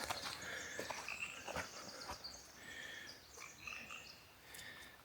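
Frogs croak in a wet area, a faint, continuous chorus of overlapping calls that repeat through the whole stretch, with no talk.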